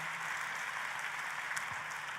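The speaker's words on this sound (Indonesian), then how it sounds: "Untuk Tuhan yang seperti itu boleh beri tepuk tanganmu yang paling meriah." A church congregation applauds during a sermon, dense steady clapping heard from a distance at moderate level, continuous across the whole stretch without any voice.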